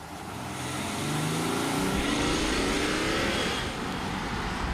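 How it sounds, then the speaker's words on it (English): A 2014 BMW X5 M50d diesel SUV revs up and accelerates, its low clattering drone rising steadily in pitch and loudness, then holding at a steady roar. "It's that familiar diesel clatter"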